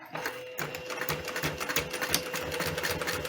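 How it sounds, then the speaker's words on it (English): A sewing machine stitches in a rapid mechanical rattle, starting after a brief pause and running steadily at close range. "I'm just gonna fix them with a backward stitch with the sewing machine."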